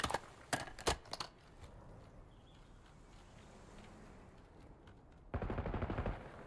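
Gunfire in a video game match: sharp bursts of rapid shots at the start, a quieter stretch, then another dense volley of automatic fire near the end.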